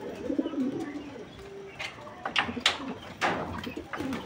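Caged pigeons coo in short low bursts while being fed sweet wheat, with a few sharper flutters and bird calls rising in the middle, fairly close and moderate in level.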